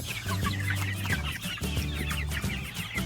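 Chicks peep and cluck in a steady, dense chorus in a cage, over a low mechanical hum that cuts in and out.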